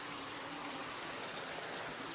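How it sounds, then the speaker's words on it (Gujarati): Steady rain falls over a farm field of freshly sprouted crops, a dense, even hiss of drops with no pauses or voices. "બહુ મસ્ત વરસાદ શરૂ થઈ ગયો છે"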